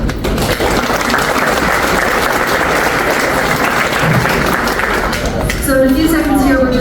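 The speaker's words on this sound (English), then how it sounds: "a huge round of applause also to Colin Duggan and the team here in the hotel" Audience applause at a chamber president's lunch in a hotel, loud, dense clapping from a large room that carries steadily, with a voice starting to speak near the end.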